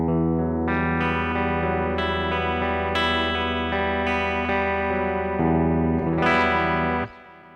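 A clean electric guitar preset on a Leo Jaymz Silverbox multi-effects pedal rings out in a run of sustained, shimmering chords with chorus and reverb, played alone and loud before cutting off abruptly near the end.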